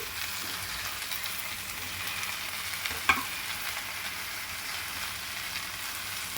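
Andhra-style okra frying in a pan on a low flame, a steady soft sizzle and crackle with one small sharp tap partway through and no talk.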